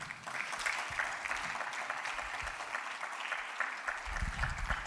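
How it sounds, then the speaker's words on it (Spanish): A church congregation breaks into applause during a sermon, a steady patter of many hands clapping at moderate volume, slightly uneven, filling the whole moment. "Denle un aplauso al Señor."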